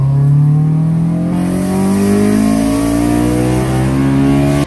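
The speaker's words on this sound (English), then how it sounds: "it sounded like an entirely different car when Vtec kicked in" A Honda VTEC engine revving hard as VTEC engages, a loud, sustained rising engine note that climbs steadily in pitch over several seconds.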